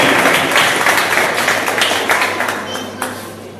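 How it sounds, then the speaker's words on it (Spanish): An audience at a tribute ceremony held by a Guaraní language and culture society gives a sustained round of applause for an honoree's mother; dense clapping fills the room and slowly thins, with faint voices mixed in. "un aplauso fuerte para la mamá"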